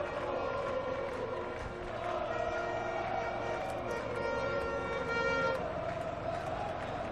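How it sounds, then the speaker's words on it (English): A large crowd roars and cheers at a night MotoGP race at Losail in Qatar, a steady distant wash of voices with swelling peaks and no clear talk. "Listen to the crowd."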